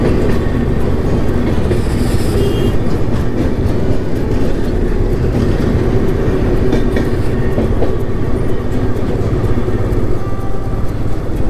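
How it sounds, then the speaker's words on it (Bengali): A Howrah-bound train passes close by along the roadside on a bike journey from Kolkata toward North Bengal, giving a loud, continuous rumble with rhythmic wheel clatter and a brief high squeal early on, with no talk. "আমার বাঁ দিকে ট্রেন যাচ্ছে, হাওড়াগ্রামী ট্রেন"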